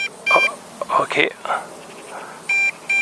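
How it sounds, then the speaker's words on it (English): An MJX Bugs B2W drone or its controller gives short, sharp electronic beeps in pairs near the end, after someone speaks over faint outdoor ambience. "I start to have a beep."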